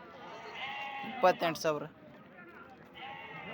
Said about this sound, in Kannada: ಇಲ್ಲೊಂದು ಮರಿ ಐತೆ ನೋಡಿ. 2 ಅಣ್ಣ ಮರಿ ಕುರಿ.